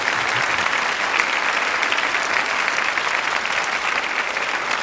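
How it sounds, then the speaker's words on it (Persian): A studio audience applauds warmly for an arriving guest, a university professor, Quran memoriser and physics PhD. The clapping is dense and sustained, loud and steady for the whole stretch, with no voices above it. "اینقدر تشویق داشت"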